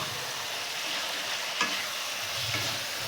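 Fried cauliflower stirred with spices in a pan makes a dense, steady sizzle, broken by a couple of sharp scrapes from the spoon.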